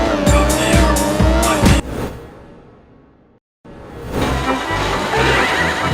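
A Porsche racing car in the PS1 game Porsche Unleashed, loud engine roar with tire squeal and skidding, briefly dropping away to near silence before the engine noise returns at full volume.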